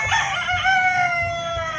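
A Talisay fighting rooster crows one loud, close, drawn-out cock-a-doodle-doo with a strained, falling tone, set against a low background rumble.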